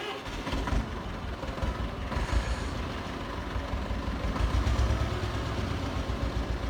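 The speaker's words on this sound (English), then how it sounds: "Look at this trusty little tractor." An old tractor engine in Farming Simulator 22 runs with a steady, loud low rumble and chugging, continuous throughout with no talk over it.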